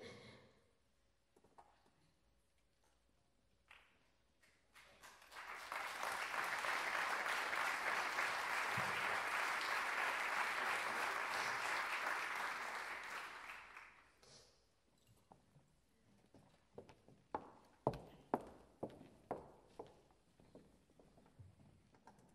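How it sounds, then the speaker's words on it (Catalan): Audience applause at a Christmas concert by a philharmonic band of about 50 musicians, a sustained burst of clapping lasting several seconds that builds and fades, with scattered footsteps and small knocks before and after. "Vull demanar un fort aplaudiment."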